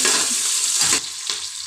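Onions for Karnataka-style chicken biryani fry in oil as they are stirred, a loud, close, crackling sizzle with stirring scrapes that dips briefly near the end, with no voices.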